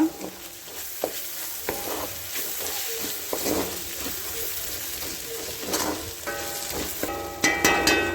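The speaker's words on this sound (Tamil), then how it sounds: "அது வரைக்கும் இதை நல்லா ஃப்ரை பண்ணுங்க" Prawns frying in chilli sauce with parsley, a steady sizzle broken by repeated clanking stirs and scrapes of a ladle in the pan, getting busier toward the end, no voices.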